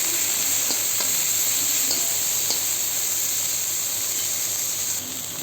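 Spiced cauliflower and potato pakora curry with cumin powder cooking in a pan, a steady close sizzle and hiss with faint stirring taps and scrapes, no talking.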